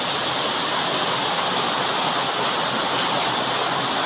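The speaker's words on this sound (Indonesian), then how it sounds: "ternyata hujannya begitu lebat" Heavy rain pours down around a workshop with undersized gutters, a dense, constant roaring wash of noise that holds steady and loud with no voices.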